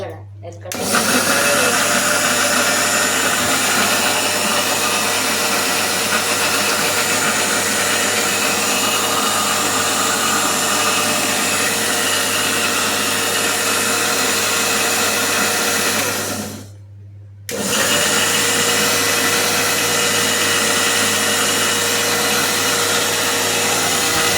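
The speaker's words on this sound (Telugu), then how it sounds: "ఇప్పుడైతే నానమ్మ మిక్సీ పడుతుంది" A kitchen mixer grinder runs loudly and steadily with sugar and water inside, cutting out briefly for about a second before starting again, while people talk faintly beneath the motor's whine.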